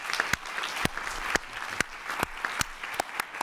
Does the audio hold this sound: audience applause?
yes